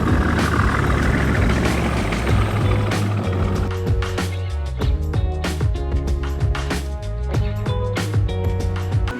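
Cars and buses rumbling and idling across the lower deck of a bridge in Porto, a loud, steady heavy-engine drone with clattering passes close by.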